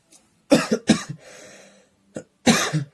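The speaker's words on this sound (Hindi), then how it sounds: "सॉरी, खांसी आ रही इस समय" Several sharp, close coughs in quick bursts with a short throat rasp between them, then a final cough after a pause; no speech.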